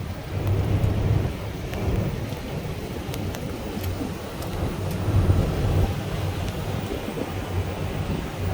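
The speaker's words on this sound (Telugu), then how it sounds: "బాగా రెయిన్ పడుతుంది." Heavy rain pours onto a cruise ship deck in the Bahamas, a continuous hiss with a low rumbling undertone and faint scattered drip clicks, with no talking.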